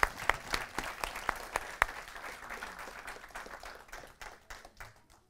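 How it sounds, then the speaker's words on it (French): Congregation applause at a church service, loud sharp claps at first that thin out and fade over several seconds, with a voice briefly heard. "Est-ce qu'on peut applaudir les..."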